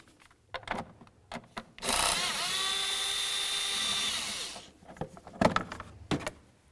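A tool works on a cover on a Chevy Silverado engine during knock sensor harness work: an 8mm socket is in use, and a loud steady whirring burst of about three seconds sits between scattered clicks and clatter of handling.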